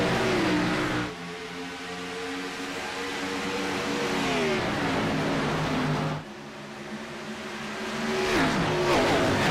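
A pack of race cars in iRacing roars at the Homestead-Miami start, engines revving and shifting loudly and continuously in a dense, layered drone with rising and falling pitch.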